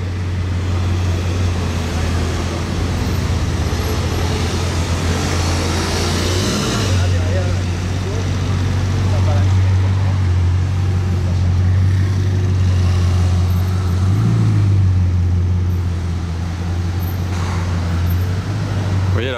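Supercars including a black Ferrari F50 and a Ferrari 812 GTS drive past one after another, steady engine rumble with two louder pass-bys around the middle and end, a voice talking over the traffic.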